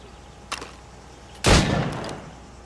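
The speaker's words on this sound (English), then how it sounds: "Go on. Shoot these targets." Gunshots at training targets in the video game Assassin's Creed Rogue, a faint shot followed about a second later by a louder, booming report with a short trailing rumble.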